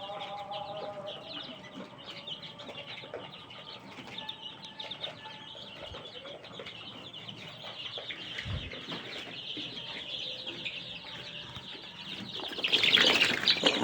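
Brahma chicks with feathered feet at a farm hatchery, giving soft scattered peeps and clucks amid faint wing flapping, with a louder flurry of activity near the end.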